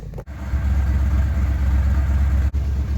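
An old truck engine idles steadily while warming up before a long drive, a close, continuous low rumble with two brief dropouts and no talk.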